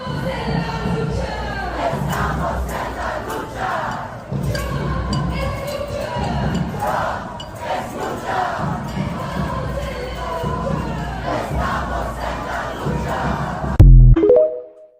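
A large crowd of street protesters chants and shouts continuously, loud and rhythmic, ending with an abrupt thump as the playback cuts.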